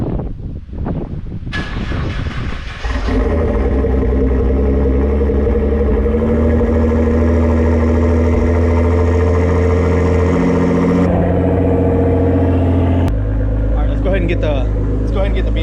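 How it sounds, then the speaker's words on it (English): A car engine cold start in a garage: a starter crank, then the engine catches and settles into a loud, steady high idle that runs on, with a sudden drop in pitch near the end. "But right now we're gonna get cold starts on the vehicles."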